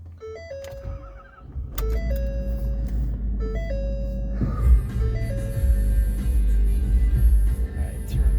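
A 2013 Ford F-350 truck gives a few repeated electronic dash chimes, then its engine starts and settles into a low, steady rumble nearby.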